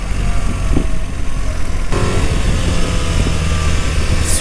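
A BMW R 1300 RT motorcycle from 2025 pulls away under throttle with a loud, continuous engine drone and heavy rumble, its tone shifting partway through, with no talk.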